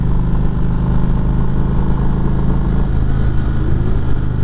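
A 2019 Indian Springfield Dark Horse motorcycle engine runs loud and steady up close, a deep continuous rumble with only slight swells in throttle and no speech over it.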